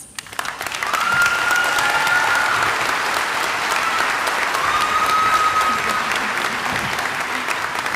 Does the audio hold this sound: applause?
yes